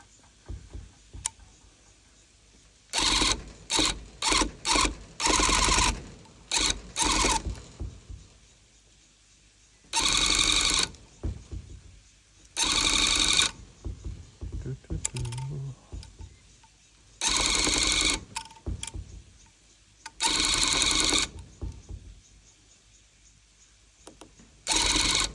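Sewing machine stitching in short bursts of rapid mechanical whirring, starting and stopping irregularly with quiet gaps between runs, while making a Rick and Morty costume.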